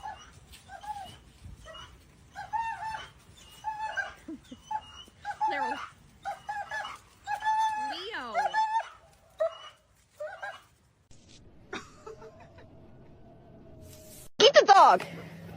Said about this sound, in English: Blue Ghost, get the dog.